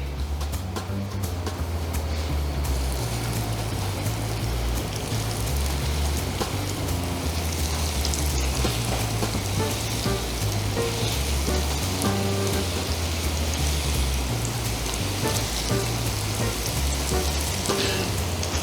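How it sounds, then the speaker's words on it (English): Breaded spiced salmon bites fry in hot oil with a steady, even sizzle and crackle that holds at constant loudness throughout, with no voices. "Once you have these beauties all breaded up, it's just time to hit some nice hot oil."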